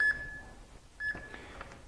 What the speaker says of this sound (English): All right, I'll get the timer going.